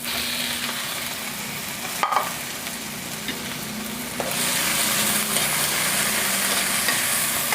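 Corned beef sizzling in a pan as a spoon stirs and scrapes through it; a steady loud fry that thickens and brightens partway through, with occasional clinks of the utensil.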